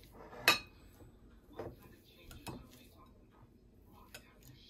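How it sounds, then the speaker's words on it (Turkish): Boiled potatoes mashed in a bowl for savoury cookies, a few irregular clinks and scrapes of utensil against the dish with quiet gaps between, close and fairly faint. "Patatesi güzelce eziyoruz."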